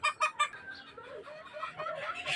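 Gamefowl broodcock pairs cluck and murmur at low volume, a few quick clucks up front followed by softer scattered calls, with no talk.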